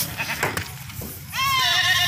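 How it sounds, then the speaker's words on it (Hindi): Makki Chini goat bleating, a single loud drawn-out bleat near the end, close by, with outdoor background noise before it. "ये नंबर 5 मक्की चनी बकरी है।"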